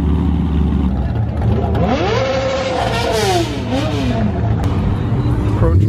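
A Chevrolet Corvette engine revs loudly at a busy car meet, its pitch rising and falling through a strong throttle blip over a constant engine rumble, with crowd voices underneath.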